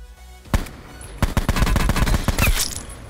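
Tap-fire gunshots in Call of Duty Blackout solo battle royale: a sharp single shot, a pause, then a fast uneven string of loud, close cracks with no talking.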